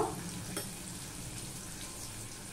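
Potato pieces frying in oil in a pan, seasoned with a little turmeric and salt, giving a steady, even sizzle that carries on without a break, moderately close and fairly quiet.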